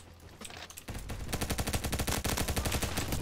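TAR-21 rifle fire in the online game Bad Business: quieter sounds at first, then a sustained, fast burst of close automatic shots that carries on to the end.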